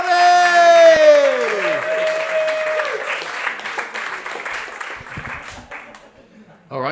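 Stand-up comedy audience applauds and cheers as a comedian is welcomed to the microphone, loud clapping with a rising cheer and whistles at first, fading gradually toward the end.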